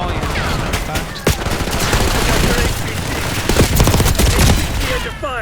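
Dual Hostile pistols firing in Black Ops 6, loud rapid volleys of close shots in continuous bursts, with game effects and some voice in the mix.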